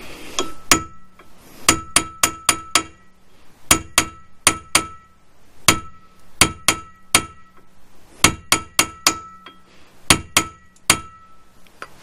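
A hammer strikes a steel pin punch to loosen a stuck brake screw during a pad and disc change on a Renault Twingo, producing sharp metallic clinks in quick irregular clusters of two to four blows, close and loud, with no talk.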